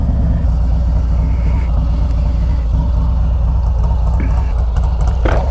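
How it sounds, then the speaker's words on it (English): A Harley-Davidson Street Glide Special FLHXS idles nearby with a loud, steady low rumble and loping beat, running continuously without revving up. "take a look at this Street Glide right here. Listen to that. That lope."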